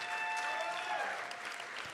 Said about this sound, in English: will you please stand at this time so we can give you a big round of applause?